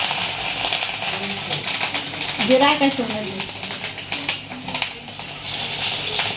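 Fish roe fritters (macher dimer bora) fry in very hot oil, a steady loud sizzle and crackle running throughout, with a voice talking over it.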